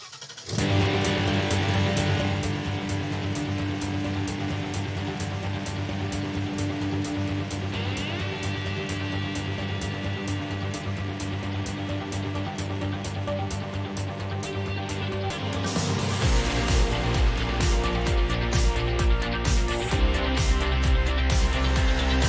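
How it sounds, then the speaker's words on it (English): Pro trucks racing at Bark River in iRacing, engines droning and buzzing together as a pack, with a louder revving truck taking over toward the end. "It's been very frenetic racing here in the Pro Truck Showdown."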